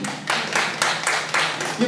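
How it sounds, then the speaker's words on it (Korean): An audience in a lecture hall claps in brief bursts, a few short rounds of applause under and between a speaker's voice. "동의해서 박수 한번 주세요"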